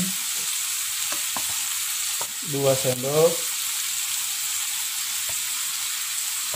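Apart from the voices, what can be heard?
stir-frying long beans with egg and oyster sauce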